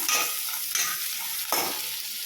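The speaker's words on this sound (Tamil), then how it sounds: "இந்த தக்காளி கூட வெங்காயமும் நல்லா சேர்ந்து வதங்கணும்" Tomatoes and onions sautéing together in a pan for drumstick kara kuzhambu, a close, steady sizzle broken by three bursts of stirring scrapes, with no talking.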